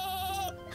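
A sheep bleats once in the Naruto Shippuden Revolution video game, a loud wavering cry that holds for half a second and then cuts off sharply, leaving quieter game sound.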